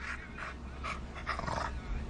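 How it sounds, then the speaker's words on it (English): A dog pants and whimpers in short, breathy bursts, fairly close, over a steady low background rumble with no talking. "Don't you hear the dog?"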